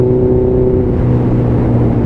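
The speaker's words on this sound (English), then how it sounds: "proverbial pops and crackles from the bike." A Yamaha XJR 1300 motorcycle engine accelerates, a steady loud droning rumble that rises slightly in pitch over a couple of seconds, with no talk over it.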